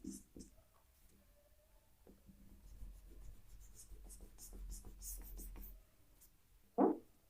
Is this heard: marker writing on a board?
yes